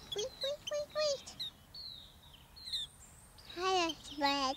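A small bird chirps in quick bursts of bright rising tweets, close by, with short quiet gaps between calls.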